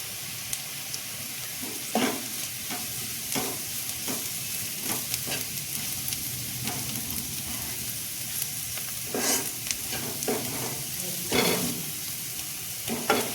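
Asafoetida, coriander-cumin powder, red chili powder and salt frying in a pan for aloo paratha filling, a soft continuous sizzle broken by scattered scraping stirs, moderately quiet with no voices.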